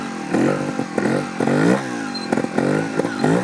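A trials motorcycle lifts into a wheelie, its engine revving in repeated rising bursts with some clattering, loud and close.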